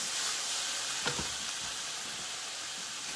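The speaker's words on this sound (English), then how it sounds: "our pork chops right here. And that's all we're doing is just browning." Pork chops brown in a pan with a soft, steady sizzle and faint frying hiss, fairly quiet, with a brief clink or stir partway through and no talking.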